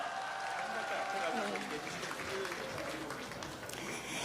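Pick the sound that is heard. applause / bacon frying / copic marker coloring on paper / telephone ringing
applause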